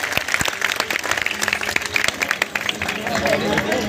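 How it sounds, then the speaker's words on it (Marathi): An audience claps together at a Shiv Malhar Khandoba katha during a harinam saptah. The lively clapping is mixed with crowd murmur and voices. "एकदा टाळी वाजवा खंडोबाऱ्यांसाठी"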